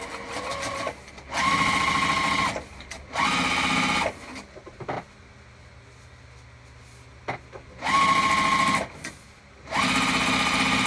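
A sewing machine stitches fabric for a crossbody bag in two loud, rapid bursts. Each burst lasts about a second and is separated by quieter handling and faint clicks, and the same double pattern repeats later, with no talking.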